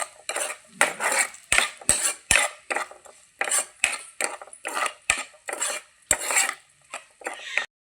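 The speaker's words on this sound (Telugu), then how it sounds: "ఒకసారి తిప్పుకుందాం చూసారా భలే ఫ్రై అయ్యాయి కదా" A metal utensil stirs small-cut onions and green chillies frying in a pan for gobi manchurian, producing sharp rhythmic scrapes and clinks against the pan roughly every half second, close and clear with faint sizzling.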